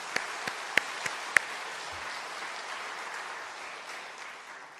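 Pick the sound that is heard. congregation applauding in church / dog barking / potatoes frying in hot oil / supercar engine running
congregation applauding in church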